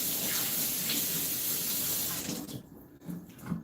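Running tap water pours steadily and loudly into a sink as vegetables are washed, a close rushing hiss that cuts off near the end, leaving a couple of soft clunks.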